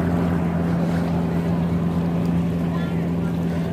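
Off Navotas Centennial Park, a passing motorboat churns out a loud, steady engine hum, with wind buffeting the microphone throughout.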